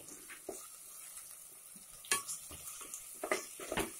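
A spoon scrapes and stirs through mutton curry base in a pan over a low sizzle, with a few clinks and louder scrapes in the second half, close up and with no voices.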